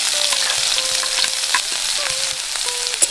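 Boiled onion, garlic and chilli frying in hot mustard oil for an egg chop filling, giving a steady, close sizzle broken by a few light utensil taps.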